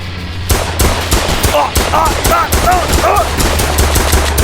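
Rapid automatic gunfire in a Roblox VR shooter game, loud and continuous with dense overlapping shots across the whole stretch, and a voice briefly audible beneath the bursts.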